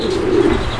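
A pigeon at a pigeon farm gives one short, close, low coo over a steady background hum.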